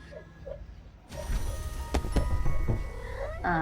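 A cat's meow rises over game-like background music and effects, a clear animal cry near the end after quieter, sparse tones at the start.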